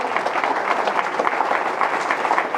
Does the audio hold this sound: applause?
yes